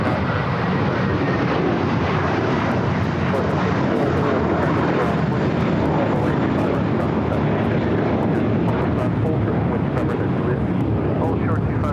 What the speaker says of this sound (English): This Alaska flight coming in from Cabo, Alaska Airlines Flight 96